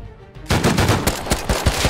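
An AK rifle in the survival game Rust fires a rapid, loud volley of close shots, each crack ringing out in a steady burst with no talk over it.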